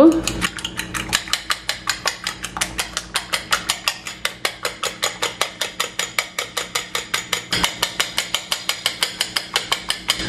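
Eggs with green chillies and shallots are beaten in a bowl with a fork or spoon, giving fast, steady metallic clinks against the bowl in an even rhythm that runs through the whole clip, close and clear.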